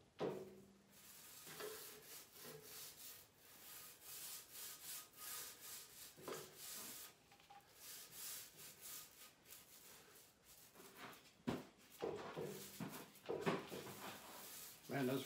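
A paint roller spreads glue across wooden boards for a workbench, making repeated rhythmic rubbing, sticky rolling strokes close by, with occasional knocks and a person speaking now and then.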